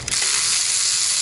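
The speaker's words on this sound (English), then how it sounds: "you're going to need to take out all the bolts" A ratchet wrench turning out T30 Torx bolts around a crankcase vent valve on a Volkswagen engine, giving a steady, close, continuous buzzing click throughout with no talk.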